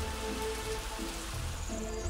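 Rain falling in the video game Soviet Republic, a steady, even hiss of rainfall on surfaces, continuous and moderately quiet under faint background tones.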